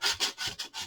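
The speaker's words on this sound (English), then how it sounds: "I'm just going to take my sandpaper and sand off some of these edges" Sandpaper rubs back and forth over the edges of a wooden Christmas craft piece to distress it, making five close, scratchy strokes in a steady rhythm with no voices.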